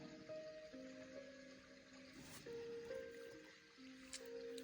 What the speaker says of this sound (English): It's got a little water running, a little soft music.